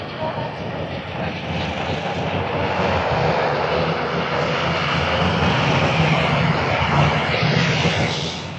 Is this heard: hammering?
no